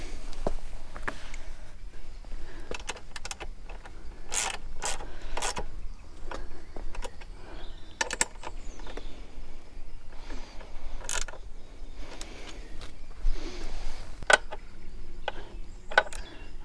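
A ratchet tightens bolts on a Givi Monorack M7 plate fitted to a Honda CB500X motorcycle, with short bursts of sharp metallic clicking separated by quiet gaps, close by and fairly clear.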